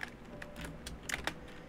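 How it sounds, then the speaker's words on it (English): Rapid clattering keystrokes on a troublesome computer keyboard, a short uneven burst of soft clicks close to the mic with no talking. "my keyboard is so annoying"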